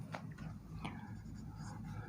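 Marker or chalk scratches across a classroom board to write the first point of a chemistry lesson. The strokes are faint and brief over a low room hum.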